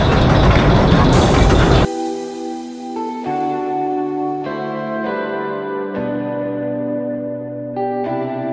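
A running train is heard as a loud rushing rumble for the first two seconds, then gives way to a reverberant musical passage with sustained tones and no talk.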